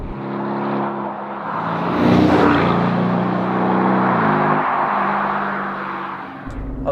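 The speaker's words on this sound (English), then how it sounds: "Instead, you've got a very refined sounding V8, still good in terms of volume," Aston Martin DB11 with a refined V8 engine, its exhaust holding a steady, fairly loud drone with a rise in revs near the middle before settling back, no voices over it.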